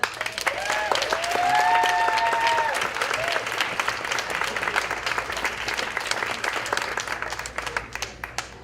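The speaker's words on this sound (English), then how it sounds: "Bring him to the stage with lots of applause" An audience applauds to welcome a storyteller onto the stage at a story-slam event, sustained clapping throughout with a voice or cheer over the start, fading slightly toward the end.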